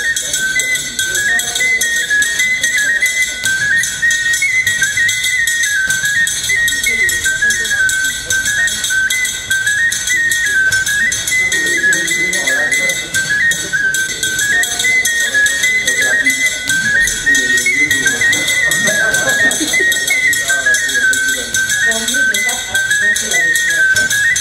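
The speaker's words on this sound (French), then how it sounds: "Ça c'est le sifflet? C'est un sifflet." A small whistle shrilling in rapid repeated warbling bursts, loud and close, running continuously over background chatter and voices at a village site in Koutammakou.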